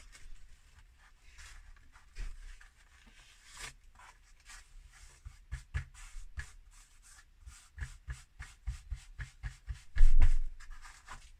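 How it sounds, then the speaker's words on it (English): Soft crinkling and rubbing of crumpled paper being smoothed out by hand, with scattered light crackles and scrapes, growing busier toward the end with one louder rustle. "trying to smooth out the crumples as I go"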